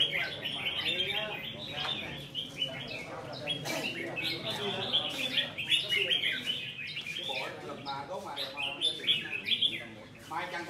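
Competition songbirds at a bird-singing contest trill and chirp continuously and loudly, dense overlapping calls throughout, with people talking faintly in the background.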